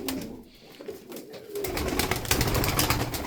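Tumbler pigeons cooing inside a coop, soft repeated coos close by with a busy flock murmur building behind them, no talk.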